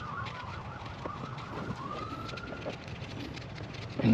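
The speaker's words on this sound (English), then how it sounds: "all you hear on here is ambulance after ambulance" A wailing ambulance siren rises and falls at a moderate distance, steady throughout with no talking.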